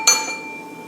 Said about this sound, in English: Sorry about that, it's a dinner bell.